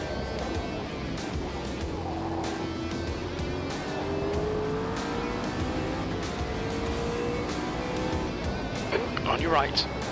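A race car engine drones steadily at Road America, with a Nissan GTR alongside, rising gradually in pitch through the gears, while a driver and a radio voice talk over it.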